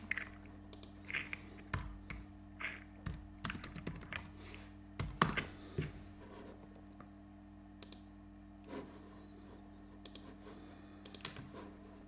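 Keyboard keys clatter in short irregular bursts of typing, close and fairly quiet against a low steady hum, pausing between words as a search term is entered.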